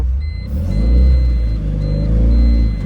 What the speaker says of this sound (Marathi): सोना ड्रायव्हरला गाडी पाठी जात नाही आपली.